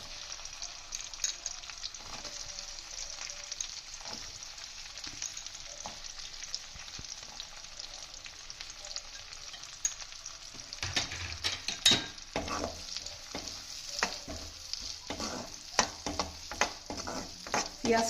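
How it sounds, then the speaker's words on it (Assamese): Onions dropped into hot butter over a lowered flame: a quiet hiss first, then a louder, crackling fry with stirring scrapes and clatter in the second half, no talk. "বাটাৰখিনি গৰম হ'ল মই এতিয়া পিয়াজখিনি দি দিম"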